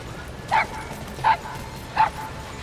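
A puppy in the video game Metal Gear Solid V: The Phantom Pain gives three short, evenly spaced yipping barks over quiet game ambience.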